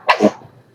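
A baby gives one small, sharp sneeze close to the microphone, a quick burst that fades out almost at once.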